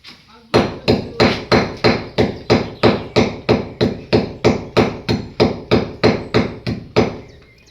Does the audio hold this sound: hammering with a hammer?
yes